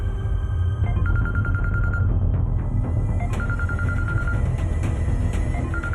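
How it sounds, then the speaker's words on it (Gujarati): A telephone rings with a repeated electronic trill over a steady, heavy background hum, two bursts of ringing a few seconds apart, moderately loud in an indoor room. "રિયાનો ફોન?"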